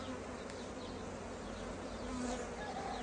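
Honeybees buzz in a soft, continuous drone around beehives, several insects humming together at a quiet, even level.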